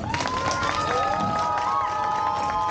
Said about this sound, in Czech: zatleskejte mu, už je tady.